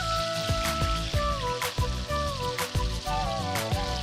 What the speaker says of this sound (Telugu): సో మనం 2 వైపు కూడా ఇలా టర్న్ చేసుకొని చేప ముక్కల్ని వేయించుకోవాలి.